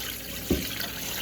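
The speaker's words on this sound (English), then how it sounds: "So now I'm going to get rid of all this disgusting water that was in her tank." Dirty water from a one-gallon fish tank pours out in a short splashing gush over a steady watery background, close and fairly loud, with no talking.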